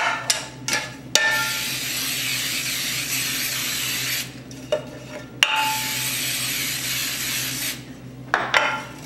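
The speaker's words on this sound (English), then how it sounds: "right now I'm going to spray cooking spray in my cake pan so my cake doesn't stick." Cooking spray hissing from an aerosol can into a cake pan in a home kitchen, two long steady bursts of several seconds each, close and fairly loud, with a few short clicks and clatters between them.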